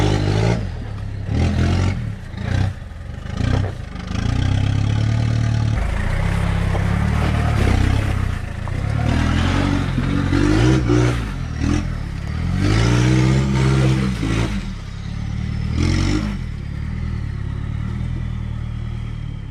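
Off-road rig driving unlocked without transfer gears, its engine revving and labouring with rising and falling pitch, clattering over rough ground, fairly close and steady throughout.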